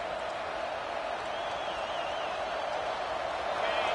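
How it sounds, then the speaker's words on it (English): A packed stadium crowd at a Michigan versus Georgia college football game roars in a continuous, loud wash of noise that swells slightly toward the end, heard from within the stands. "listen to this crowd noise. This stadium is vibrating"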